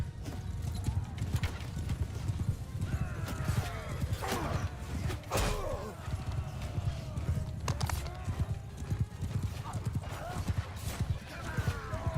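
Horse hooves clip-clop steadily with occasional neighs and creaking tack in the medieval combat game Bannerlord, the hoofbeats near and persistent amid battle ambience, with someone talking briefly over them.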